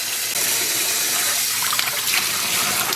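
Water from a tap runs into a container with dish soap for rinsing dyed yarn, a loud, steady rushing fill that stays close and continuous, with no talking.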